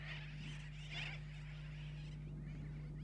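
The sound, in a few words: seabird flock calling and flapping wings, sooty terns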